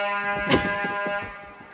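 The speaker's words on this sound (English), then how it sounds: "they'll beep like that" A single sustained electronic vehicle horn tone at a Christmas parade in Manchester, with a steady pitch, holding for nearly two seconds without pause.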